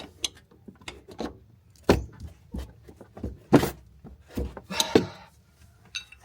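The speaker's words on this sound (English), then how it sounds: "Use your 2 wrenches to lock them in." Wrenches clanking and clicking against coilover parts on a Honda, with several sharp metallic knocks and taps spread across a quiet stretch and no talking.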